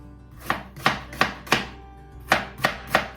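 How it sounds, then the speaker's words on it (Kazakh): An onion is sliced into medium pieces with a knife on a board. Seven sharp, close chops land in two quick groups with a short pause between them, and no one talks. "пиязды орташа бөліктерге бөліп турап аламыз"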